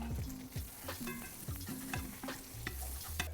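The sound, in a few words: sandwich bread frying in butter in a pan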